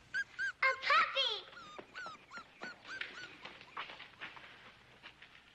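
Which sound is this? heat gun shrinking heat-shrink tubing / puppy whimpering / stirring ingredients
puppy whimpering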